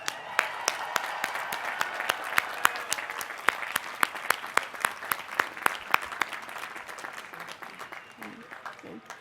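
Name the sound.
applause for graduates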